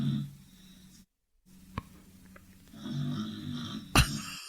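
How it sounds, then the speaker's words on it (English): A dog named Frank snores in steady, rumbling breaths nearby, a low drone broken by a short silence, a couple of small clicks and a sharp thump near the end. "I can hear your dog snoring."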